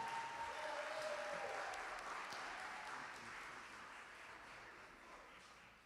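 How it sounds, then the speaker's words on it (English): Audience applause fills a hall at a junior honor society induction ceremony, a dense wash of clapping that starts strong and gradually fades. "please give a wonderful round of applause"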